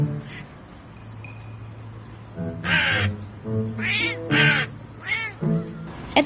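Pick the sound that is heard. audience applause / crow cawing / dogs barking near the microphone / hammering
crow cawing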